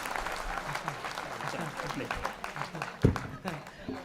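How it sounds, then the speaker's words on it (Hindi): Clapping from a poetry gathering audience, moderately loud and uneven, mixed with voices and murmurs, with one sharp thump near the end. "एक बार पूरा सदन जोरदार ताली बजाकर बताइए"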